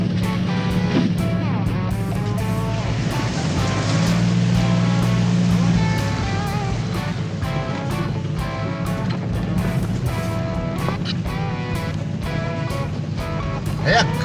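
A 4WD pushes through a river crossing on the Crooked River tracks in Victoria, water rushing and splashing loudly and continuously with engine rumble beneath, a steady dense wash close by for the whole stretch.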